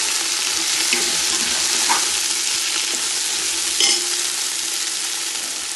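Chopped ginger and curry leaves fry in a pan for a Kerala-style puli inji, giving a steady, loud sizzle with scraping stir strokes breaking through now and then.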